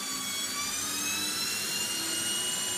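A whining electric vehicle motor runs steadily during a gas pedal test on a home EV conversion, a sustained high-pitched tonal hum with layered harmonics, loud and continuous throughout with no talk.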